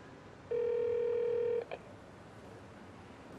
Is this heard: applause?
no